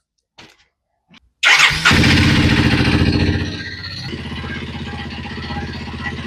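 A Kawasaki W230 Meguro S1 motorcycle engine, after a couple of faint clicks, catches with a brief starter whir and fires up loud and close, then settles into a steady, pulsing idle.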